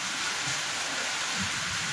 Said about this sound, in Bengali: ভীষণ জোরে জোরে বাজ পড়া শুরু হয়েছে